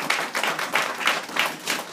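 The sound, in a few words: congregation applauding the Lord at a seminar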